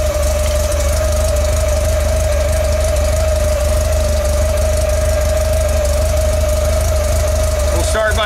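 An air-cooled Volkswagen bus engine with carburetors idles steadily while warming up, giving a loud, constant near hum with a steady whine on top and a brief clatter at the very end.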